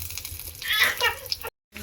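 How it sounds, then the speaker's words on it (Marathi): Water poured into a pan of sautéed garlic and curry leaves, a steady splashing gush that swells midway and stops abruptly near the end, heard close with no talk. "दीड ग्लास पाणी ओतायचं आहे। दीड ग्लास पाणी ओतून घ्यायचं आहे"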